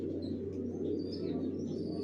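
Young racing pigeon squabs coo softly in a continuous low murmur, with faint chirps scattered over the top.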